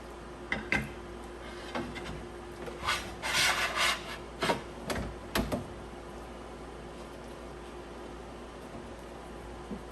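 A magnetic bed plate slides into place on a Raise3D Pro 2 3D printer, producing a series of close, scraping rubs and short grinding bursts, then settling into quiet.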